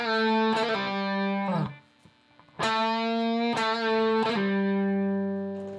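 A distorted electric guitar plays a quick lick with hammer-ons and pull-offs, picked notes followed by fast legato flicks, repeated twice with a short pause between phrases, loud and close with no talking.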